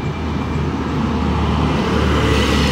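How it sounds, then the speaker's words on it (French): A Porsche 911 Dakar drives past on a Monaco street, a loud steady engine drone with road noise building slightly over a few seconds, no voices. "Petite 911 Dakar."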